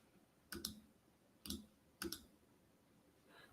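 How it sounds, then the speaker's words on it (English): Three sharp clicks at roughly one-second spacing, each a quick double tick, standing alone over a quiet background with a faint rustle at the end. "maybe clicking away."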